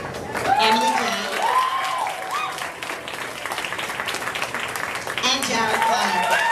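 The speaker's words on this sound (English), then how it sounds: "We're full on clapping, we're not singing." An audience applauds at a senior awards ceremony with sustained, dense clapping throughout. A voice speaks over it at the start and near the end.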